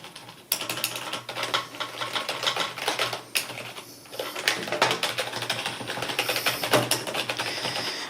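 Fingers type on a Corsair K55 membrane keyboard in quick irregular bursts of soft clacks, close up, with brief pauses between runs.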